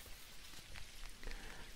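Rain falls steadily in the video game Dinkum, a soft continuous patter with light drops tapping through it, fairly quiet and without any voices.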